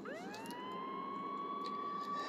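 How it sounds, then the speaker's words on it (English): Emergency siren ambience played in a Unity ambience creator tool, a steady wailing tone rising at the start and then holding high and continuous, with no talking. "So for example, I'm going to play the siren."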